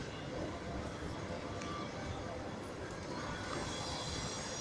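An electric commuter train rolls steadily along the rails nearby, a continuous loud rumble with faint squealing of wheels.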